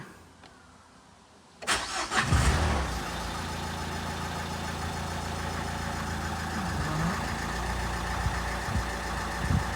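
A car's 1.5 dCi diesel engine is started after a timing belt job: quiet at first, then a short crank catches into a loud start that settles into a steady, close idle with no voices.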